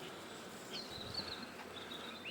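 Honeybees drone in a low, steady hum around an open hive during the introduction of a new queen to a queenless colony, with a few brief higher whines from bees flying close by.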